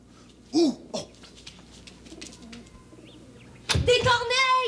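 Crows caw in a 1979 French children's television episode about birds: one short harsh call early on, then a louder run of raspy, voice-like caws at the end over a quiet background. The calls may be a human voice imitating crows.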